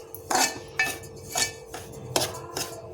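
Upma semolina roasting in a pan, with sharp metallic scrapes and clinks of a spoon against the pan in irregular bursts, close and fairly loud over a steady low hum.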